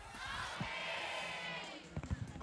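A studio audience cheers and shouts in a sustained, moderately distant roar, with a few sharp claps and thumps breaking through near the end.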